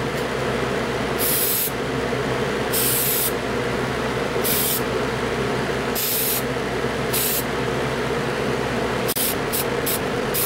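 A spray can paints a Matchbox Mercury wagon model in sharp hissing bursts, roughly half a dozen longer blasts and then a quick cluster of short puffs, over a constant low mechanical hum.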